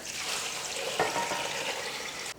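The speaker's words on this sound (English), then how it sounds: "Just add some water," Water poured from a tap or vessel into a pot of crab and lobster shells for stock, a steady splashing pour lasting a couple of seconds before stopping.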